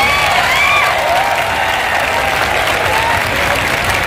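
Students at a road protest over a recruitment scam clap together as a crowd, producing steady, dense applause that holds at a loud level throughout, with a faint mix of voices in the crowd.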